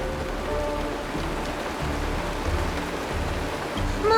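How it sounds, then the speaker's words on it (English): Steady rainfall from a video game scene in Honkai Star Rail, a continuous soft hiss of drops with a low rumbling bed beneath, fairly even throughout, and a brief tonal sound entering at the very end. "Mommy, the rain."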